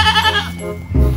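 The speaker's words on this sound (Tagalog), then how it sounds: "Yung kambing, oh." A goat gives one short, close, wavering bleat.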